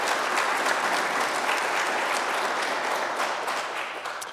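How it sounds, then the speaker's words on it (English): An audience at a talk by Taser International co-founder Rick Smith breaks into a big round of applause, dense sustained clapping that fills the room and tapers slightly toward the end. "big round of applause"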